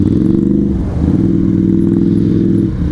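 A motorcycle with a double exhaust idles close and loud, its deep throbbing pulse steady throughout with a slight dip in rhythm near the start.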